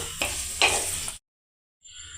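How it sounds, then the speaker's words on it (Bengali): Three chopped onions and eight slit green chillies fry on high flame in a pan for a chicken dish, a steady close sizzle with stirring scrapes that stops abruptly midway, then returns softer. "হালকা লাল করে ভেজে নিতে হবে।"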